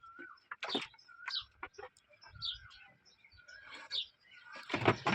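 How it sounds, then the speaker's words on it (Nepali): Chickens sharing a coop with a cat give short, scattered clucks and chirps at close range, mixed with small rustles and a burst of broadband scuffling near the end. "कुखुरा मुनु एउटै खोरमा।"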